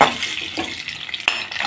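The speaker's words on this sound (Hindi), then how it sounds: "मैं इसमें 1 तरफ ट्रांसफ़र करूँगी और इसको धीरे धीरे फ्राई करूँगी" Small whole onions fry slowly in a pan over a low flame, making a brief soft sizzle with a stirring scrape and one sharp clack of a utensil near the end.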